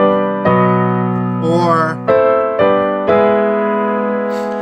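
Piano chord progression moving around the circle of fifths, a handful of sustained chords struck one after another with a short glide between two of them, a single spoken word heard briefly.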